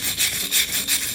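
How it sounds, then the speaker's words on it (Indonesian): A nail comb scrapes flaking paint off a damp, mouldy wall in rapid back-and-forth strokes, about four rough rasping passes in quick succession, close and fairly loud. "supaya tambah bersih kita pakai sisir paku nih"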